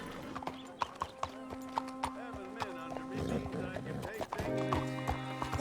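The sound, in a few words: horse hooves walking, from a video game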